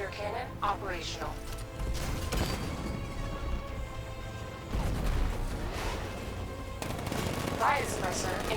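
A tank's 60mm cannon fires in the Batman Arkham Knight video game, amid dense repeated blasts, explosions and gunfire, with loud impacts recurring every couple of seconds and game effects layered throughout.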